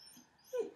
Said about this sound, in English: there's a dog that she probably wants to go play with in the distance